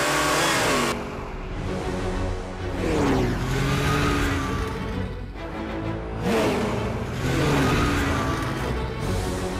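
A cartoon caterpillar vehicle revving and accelerating in repeated engine surges, each rising roar fading before the next burst, with no talk over it.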